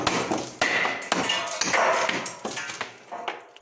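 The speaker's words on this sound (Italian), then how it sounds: "Ora, diamoci una bella martellata, Diego." Several sharp hammer blows strike in an irregular series, loud and close, with short pauses between the hits.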